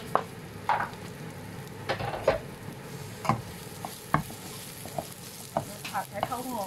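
Chili and garlic stir-frying in hot oil for pork with garlic flowers, a steady sizzle broken by sharp clatters of a spatula scraping the pan at irregular intervals.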